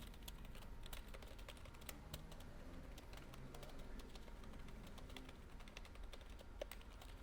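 Typing on a computer keyboard in Notepad, a quiet continuous patter of fast, irregular key clicks at close range with no talk.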